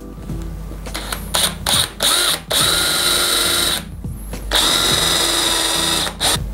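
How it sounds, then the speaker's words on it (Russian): A power drill bores three holes at close range, its loud whine running steadily in repeated bursts with short stops and restarts between them. "как говорил, сверлим три отверстия"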